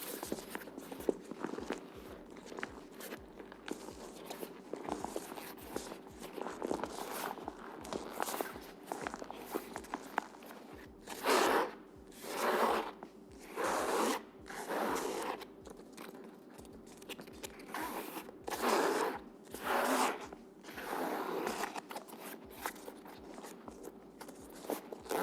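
Close-up crinkling, scraping and rustling of a nylon phone case being handled, with bursts of louder crunchy rubbing at irregular intervals, no talking.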